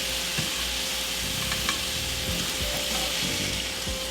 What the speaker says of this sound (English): allow the salmon to grill for an additional 3 minutes